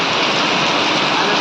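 Torrential rain falling in Gariyadhar, Gujarat, on an unseasonal summer afternoon, a thick continuous hiss of water that stays loud and even from start to finish.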